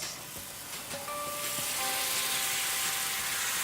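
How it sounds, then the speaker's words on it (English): Chickpeas in a curry marinade hit a hot non-stick skillet, bursting into a bright, steady sizzle with a few soft stirring scrapes and no voices. "We're going to heat up the chickpeas with the marinade in a non-stick skillet."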